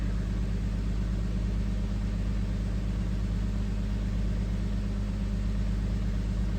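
A Nissan Xterra engine with a defective ignition coil runs with a misfire, a close, steady low rumble carrying a faint uneven pulsing throughout, with no talking.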